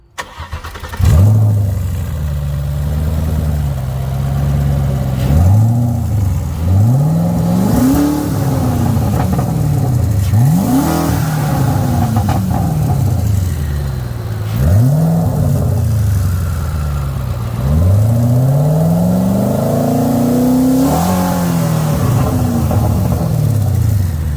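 A car fitted with a Boost supercharger revs repeatedly, its engine rising and falling in a series of loud, close throttle blips, about seven rev cycles, heard alone without talk.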